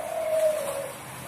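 A dove gives a single soft, drawn-out coo, clear and fairly close against a quiet background, fading out after about a second.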